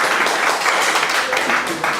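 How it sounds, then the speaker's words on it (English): Audience applause at a May 1st Republican Party primary candidate event, a steady dense wash of clapping held at even loudness throughout, with faint voices mixed in. "Let's give them both another big round of applause."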